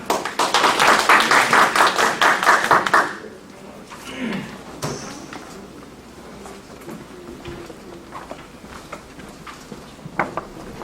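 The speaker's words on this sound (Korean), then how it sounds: "그럼 큰 박수로 맞이해주시기 바랍니다." An audience claps to welcome a presenter at a Korean research presentation on released prisoners' psychology, a loud burst of dense clapping for about three seconds that breaks off into a quieter room with faint knocks and movement.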